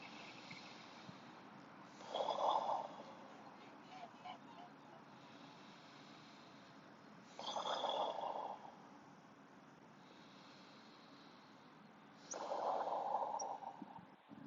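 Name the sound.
yoga breathing cycles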